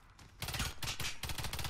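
Rhino gun fired in the shooter game Warface, with a short pause and then a loud, close burst of rapid booming shots in two quick volleys and no talk over it.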